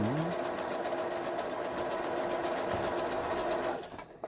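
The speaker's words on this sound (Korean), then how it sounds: "오버록 바느질. 옷감을 가장자리에 놓고 이런 식으로 바느질" A Brother CS6000i sewing machine, just repaired, runs an overlock stitch along a fabric edge, a steady close whirring hum that holds for about four seconds before stopping abruptly.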